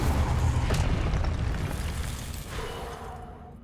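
A fiery burst from the Incendio spell in Hogwarts Legacy, a sustained rushing roar with a few sharp pops that slowly fades away.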